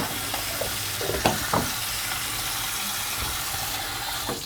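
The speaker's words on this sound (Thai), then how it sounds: "มาดูวิธีล้างหมูนะคะล้างหมูให้สะอาดนะคะ" Raw pork is scrubbed by hand with plenty of coarse rock salt and water, giving a steady wet, hissing wash broken by a few soft knocks and clatters, with no voices.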